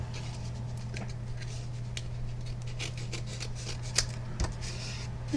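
Scissors snipping through card paper scraps during a small card-making craft session, a few crisp close cuts and light paper rustles over a steady low hum, no talking.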